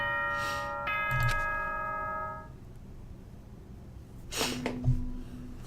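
Chime from the video game Danganronpa Trigger Happy Havoc: a bright bell-like ding-dong with ringing harmonic tones, then a second chime a few seconds later, clear and alone with no talk.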